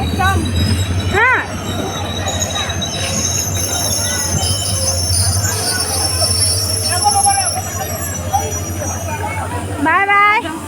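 A train pulls into a railway station, a steady low rumble with metallic wheel squeals rising and falling near the start and again at the end, loud and close over a faint murmur of people.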